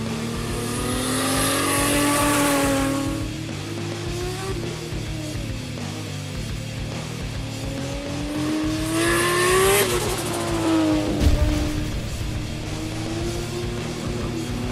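Built RB25 stroker engine in a Nissan S15 Silvia widebody time attack car revving hard, two rising sweeps climbing to a high scream with falling pitch between, loud and close with no talk.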